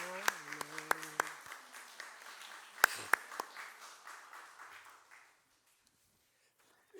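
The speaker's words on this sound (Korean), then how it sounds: "큰 축복의 박수 부탁합니다." A church congregation applauding during a Palm Sunday worship service, fairly quiet clapping with a few sharp louder claps and a voice at the start, dying away to silence after about five seconds.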